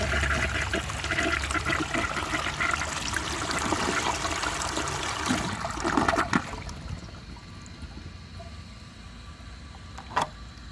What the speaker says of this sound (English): So let's give this a flush and see how it does.